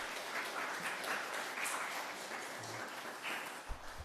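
A church congregation at a Sunday Easter-season service in Darmstadt claps to welcome one another, a soft, dense patter of many hands from across the hall, fairly faint and steady.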